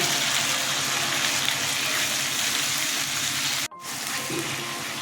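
Tomatoes fry in oil in a pan with a steady, close sizzling hiss, cut by a brief silence before the crackle resumes.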